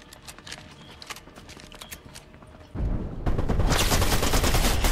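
Rapid submachine gun fire in a video game, faint scattered shots at first, then a sudden loud burst of sustained automatic fire that fills the second half.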